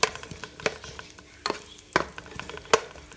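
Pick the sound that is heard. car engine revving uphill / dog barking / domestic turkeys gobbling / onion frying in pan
onion frying in pan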